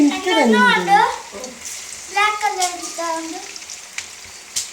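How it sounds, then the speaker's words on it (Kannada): Food fries in hot oil in a pan, making a soft crackling sizzle under a nearby person talking for much of the time. "ನಿಮ್ಮನ್ನು ಸಾಕ್ಬೋದು ಎಣ್ಣೆಗೆ, ಫ್ರೈ ಆಗ್ತದೆ, ಚಂದ ಫ್ರೈ ಆಗ್ತದೆ"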